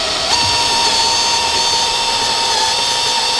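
A power drill bores a hole in a 2018 Subaru STI Type RA during an air ride suspension install, a steady high-pitched whine running close and loud throughout without pause.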